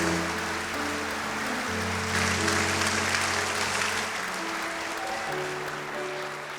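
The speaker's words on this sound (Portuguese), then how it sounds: "Aplauda o Senhor Jesus" A church congregation at a family conference claps in sustained, loud applause, with sustained organ or keyboard tones running underneath and no distinct speech.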